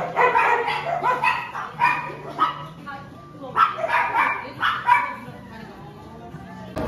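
A dog barks and yips in short bursts on a busy street in Hongdae, Seoul, mixed in with nearby people talking over it.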